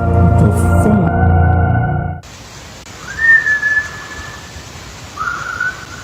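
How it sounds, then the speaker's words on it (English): Unexplained whistling in a creepy nighttime recording: after a loud musical intro ends abruptly, two thin whistled tones rise and hold, one long and one shorter, fairly faint over a quiet background hiss. "Ooh, whistles. I don't like whistles."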